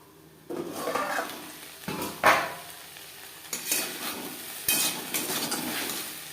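Okra and potato cooking in a covered pan on a medium gas flame, with soft sizzling under intermittent clinks and scrapes of a utensil against the pan, fairly close and moderately quiet.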